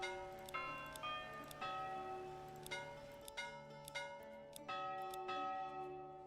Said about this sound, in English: Change the church bell sound.